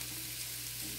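Potatoes with onions and bell peppers frying in a cast-iron skillet give a soft, even, continuous sizzle with a low background hum and no distinct pops.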